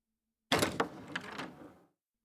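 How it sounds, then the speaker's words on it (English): A door is opened with a sudden clunk of the latch followed by a brief rattling slide that fades out, close by against otherwise silent surroundings. "Please open the door."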